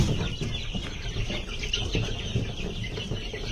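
Deshi chickens clucking softly and steadily at close range, with a few faint wing flaps, no talk over them.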